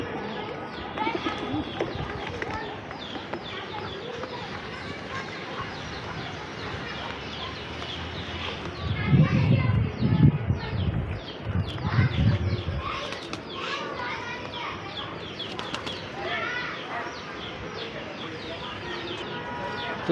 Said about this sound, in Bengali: এগুলো খুবই ছটফটা কবুতর, এগুলো মনে হয় কখনো আটকানো হয় নাই, যার কারণে অনেক ছটফট করতেছে।